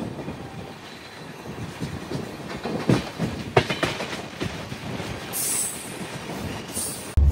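A Hamsafar Express crosses the Tiruchirappalli Howrah Express, a steady rumbling roll of wheels with rattling clacks and a faint high squeal, heard from aboard the train.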